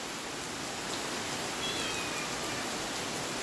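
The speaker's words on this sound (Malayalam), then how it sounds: "ഉച്ചയ്ക്ക് നല്ല കിടിലൻ മഴയാണ് പുറത്ത്" Heavy afternoon rain falls outside as a faint, steady hiss of drops, even and unbroken throughout, with no voices over it.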